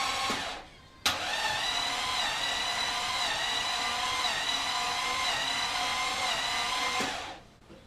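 The starter motor on a Toyota Celica ST202 SS-III cranks the engine with a steady high-pitched whine for about six seconds without catching, then spins down, heard close and alone.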